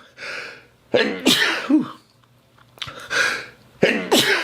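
Three loud sneezes close to the listener, spaced a couple of seconds apart, each with a sharp breathy burst.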